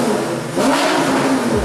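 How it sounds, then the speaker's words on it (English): The massive V12 engine of a Batmobile-styled supercar revs up close, a loud, throaty rise in pitch that swells, holds briefly, then falls away, with no voices. "that mighty V12 engine. This engine is massive and it sounds"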